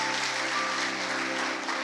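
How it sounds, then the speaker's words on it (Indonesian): Applause fills a church during a sermon, a steady wash of clapping over a faint sustained tonal hum, with no speech above it. "Tepuk tangan dulu buat Tuhan Yesus"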